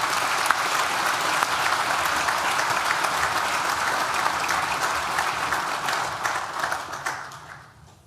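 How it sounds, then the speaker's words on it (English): An audience at a university graduation ceremony claps in steady, sustained applause that fades out toward the end. "Please join me in a round of applause for our Deputy Vice-Chancellor."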